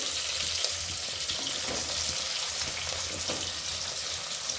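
Potato pieces frying in a pot of soya chunk biryani, giving a continuous, even sizzle with light stirring and no voices.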